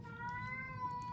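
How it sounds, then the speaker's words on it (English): A pet cat named Magenta lets out one drawn-out, clear meow up close, with no talking over it. "That's my cat, Magenta."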